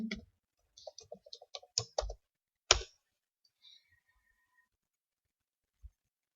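Light, close keystrokes on a computer keyboard come in a quick cluster of clicks, then one sharper tap and a last lone click after a pause.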